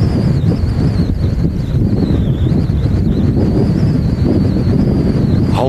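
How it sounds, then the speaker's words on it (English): Strong gusty wind pounds an airport control tower at Manchester Airport, a loud, continuous roaring buffet close to the microphone with a faint whistling tone riding on top. "Whole tower is just rocking with this wind blasting it."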